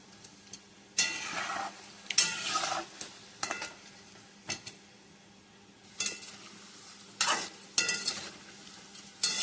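Snacks frying in hot oil are stirred now and then, giving bursts of crackling sizzle over a low steady bubbling, with occasional scrapes and clinks from the pan.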